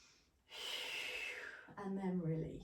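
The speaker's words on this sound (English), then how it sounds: "Take some breaths." During a core and abs Pilates stretch, one long, close, airy inhale is followed by a shorter exhale with a slightly voiced, sighing quality.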